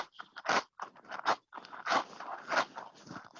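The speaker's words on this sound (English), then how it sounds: "I'm eating crackers." Crunchy cracker-eating sounds close up, a series of irregular bites and chews with brief pauses between them.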